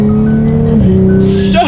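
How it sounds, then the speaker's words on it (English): A 2018 Audi S4 engine hums steadily, its pitch dropping during a paddle-shift gear change about halfway through, with a brief whoosh near the end, recorded loud from inside the cabin. "let's test out the paddle shifters here"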